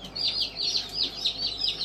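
Baby chicks peeping while being handled, a rapid run of high, close chirps repeating in a steady rhythm for the whole stretch.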